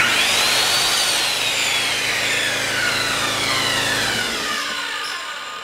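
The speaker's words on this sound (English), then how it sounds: "How about this air compressor?" An air compressor powered through a cheap eBay power inverter runs with a steady, loud mechanical drone and rising whine that holds throughout before easing off at the end, with no one talking.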